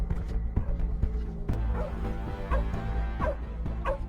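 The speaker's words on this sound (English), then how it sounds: "But then, the police hounds suddenly start barking near the lake, while Christian hastily pours gasoline over" Several police hounds bark and yip in quick bursts near a lake, with whimpering between, close and loud with no talking.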